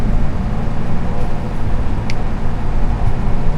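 Car engine revving and accelerating in the video game The Derailed, a steady droning roar with road rumble throughout, loud and continuous without clear speech.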